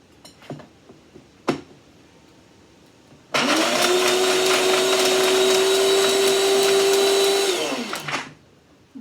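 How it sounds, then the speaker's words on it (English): Countertop blender blending rosehips with no water added, a loud steady motor whine starting abruptly after a couple of faint knocks, running evenly for several seconds, then spinning down and stopping. "just blend it."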